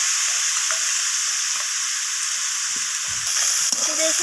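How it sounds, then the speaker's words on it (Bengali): Fish coated in salt and turmeric fries in hot oil, a steady, loud broadband sizzle running throughout with occasional soft clinks and stirring knocks, no voices. "তো লবণ আর হলুদ দিয়ে মাছটাকে আমি ভেজে নেব।"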